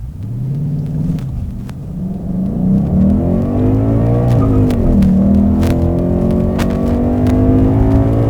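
A Ford Mustang GT 55th Anniversary with a naturally aspirated 5.0 V8 pulls hard from a standstill on a slight downhill, its deep engine roar rising steadily through the gears, loud and close, with no talk over it.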